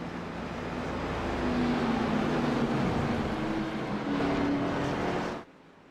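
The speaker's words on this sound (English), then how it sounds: "So we've got a couple of cars that are hitting the pit lane while they make their pit stops" Race cars roar around the track in the iRacing video game, a sustained loud engine drone with pitch swells as cars pass, cutting off abruptly near the end.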